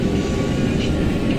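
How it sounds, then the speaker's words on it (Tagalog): An MRT train at Guadalupe station in Manila produces a steady, loud low rumble and rolling noise with no pauses. "So ngayon nandito pa tayo sa MRT station sa Guadalupe."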